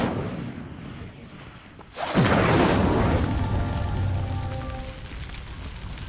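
An Incendio spell lights a pyre in Hogwarts Legacy. After a quiet ambient stretch, a sudden whooshing burst flares up about two seconds in and settles into a steady roaring crackle of flame.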